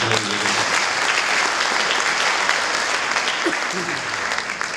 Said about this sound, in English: We really owe them a round of applause.